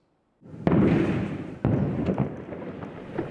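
Explosions from Israeli strikes on southern Lebanon: a low rumbling roar with two sharp booming impacts a second apart, followed by a long rolling tail of heavy noise, loud and alone.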